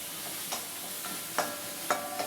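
Onion sautéing in a pan for a thattaikai poriyal, a quiet low sizzle with a few sharp spatula taps and scrapes spaced about a second apart.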